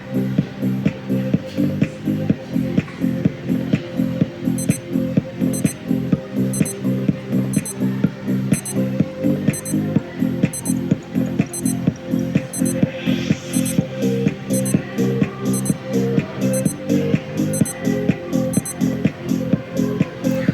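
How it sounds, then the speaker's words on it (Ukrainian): A Citizen CB5946-82X (calibre E660) wristwatch alarm beeps in fast, steady repeating bursts, loud and close, continuing without pause and with no voices. "І в 38 хвилин має спрацювати будильник."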